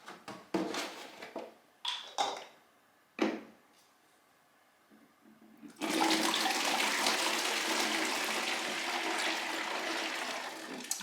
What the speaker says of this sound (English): I'm just going to wash this bucket and we'll use it again this year.